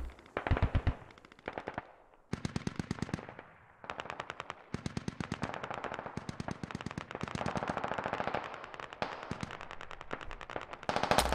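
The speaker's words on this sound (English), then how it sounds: "And we do have some shots going up into the minarets." Rapid machine-gun bursts in a military video game, fired toward minarets. Loud, close, repeated rattling volleys with brief pauses between them, continuing steadily throughout with no talk.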